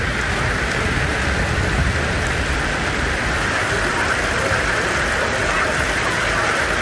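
Heavy rain pours steadily across farmland around Vepanapalli in Krishnagiri district, a dense, continuous hiss that stays loud and unbroken throughout.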